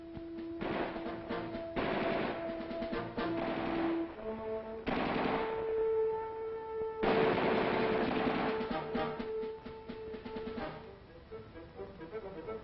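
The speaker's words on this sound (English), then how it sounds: "The M60 machine gun." An M60 machine gun fires in repeated bursts of rapid automatic shots during a 1960s U.S. Army training exercise, each burst a few seconds long with short gaps, heard on an old, band-limited film recording.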